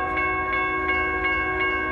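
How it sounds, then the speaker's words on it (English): A Union Pacific freight train passes at Menlo Park, its steady rumble joined by a sustained multi-tone horn and a regular clacking of wheels, loud and close. "That is the freight train."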